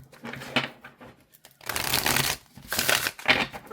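Tarot cards riffle and flutter close by in a few quick overhand shuffling bursts, with brief pauses between shuffles.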